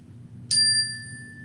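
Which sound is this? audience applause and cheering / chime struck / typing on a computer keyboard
chime struck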